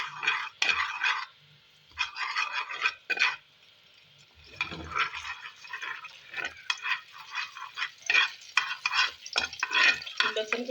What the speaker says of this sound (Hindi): लहसुन को अच्छी तरह हम थोड़ा फ्राई कर लेंगे ताकि अच्छी तरह लहसुन भून जाए